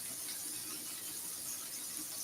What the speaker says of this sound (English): going to rinse this off before I grab the asparagus.